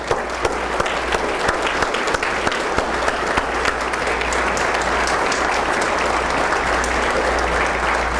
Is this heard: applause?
yes